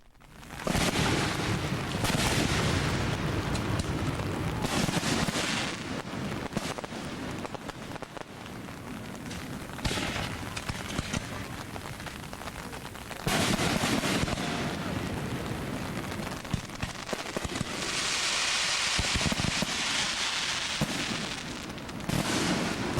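Fireworks mortars launching from ground level and bursting overhead at a rainy outdoor show, a dense, continuous barrage of booms and crackle with rain pattering throughout and no clear pauses.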